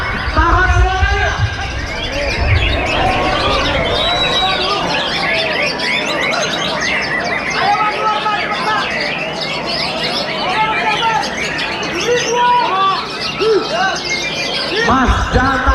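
Caged songbirds chirp, squawk and sing continuously in a busy, overlapping chorus of tweets and trills, close and loud, with people talking in the background throughout.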